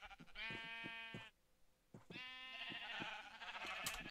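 A sheep in the video game Minecraft bleats twice, two clear wavering bleats separated by a short pause, close and alone, with faint background sound.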